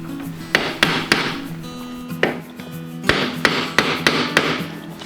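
A screwdriver is struck with a hammer to turn and tighten the top steering head nut on a motorcycle during a head stock bearing replacement, giving about ten loud, close metallic whacks in an uneven rhythm with a low hum behind.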